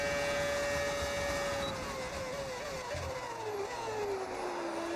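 A modded car engine in the F1 26 racing game gives a steady high whine whose pitch slides gradually downward, over a constant mechanical hum and with no talk.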